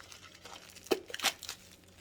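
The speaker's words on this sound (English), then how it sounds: "And the last layer is your regular grocery plastic bag." A regular plastic grocery bag crinkles quietly in a few short, soft bursts, close by and with no other sound.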